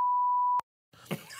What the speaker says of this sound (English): We'll beep that out.